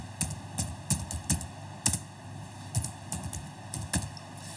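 Computer keyboard keys tapped while working in MS Word 2007, a steady run of close, crisp clacks in an uneven typing rhythm, with no voice over them.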